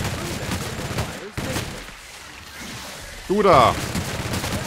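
Weapon fire in The Outer Worlds, bursts of rapid shots in the first second and again after the midpoint, mixed with combat effects, a brief gap of near silence, and someone talking over parts of it.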